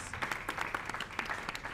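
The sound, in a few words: applause for the participating countries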